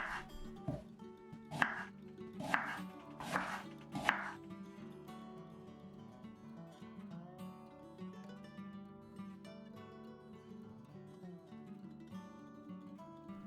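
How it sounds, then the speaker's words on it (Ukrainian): Four sharp knife chops strike a cutting board in quick succession as an onion is finely chopped, followed by soft background music with no further chopping. "Також дрібно шинкуємо цибульку."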